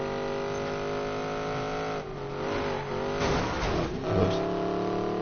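Video game car engine droning steadily at high revs, then shifting pitch as it accelerates, loud and close with no talking.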